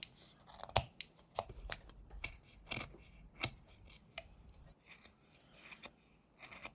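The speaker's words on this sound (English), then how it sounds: "I'm not only pressing the blade directly into the wood, but I'm also sliding it" Whittling knife slicing into wood while carving a butterfly, a quiet series of short scraping and crisp cutting strokes at an irregular pace, close up.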